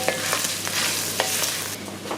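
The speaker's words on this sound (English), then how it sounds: "So we're gonna let them brown all over and make sure that there is no liquid." Ground meat for lasagna browns in a frying pan with a steady loud sizzle, broken by periodic scraping strokes of a utensil stirring the pan. No voices.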